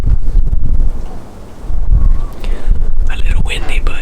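Wind blows hard outdoors during an afternoon deer hunt, buffeting the microphone with loud low rumbling gusts that rise and fall without pause.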